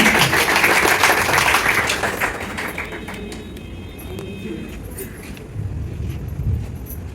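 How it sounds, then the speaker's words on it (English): Audience applause for actors and dancers at a live class event, loud dense clapping that gradually thins and fades, leaving faint room noise. "And a big round of applause for our actors and our dancers."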